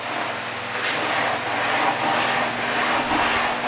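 Rough grinding of a 12.5 inch telescope primary mirror on the tool, a steady, close, gritty rasping and scraping that runs continuously without pause and with no voices.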